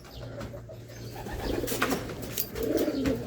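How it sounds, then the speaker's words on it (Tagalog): A racing pigeon returning to its home loft after a sprint race, giving soft low cooing under faint background bird calls and some brief rustling, close and fairly quiet. "O, ito, may ibon na tayo from Lucena"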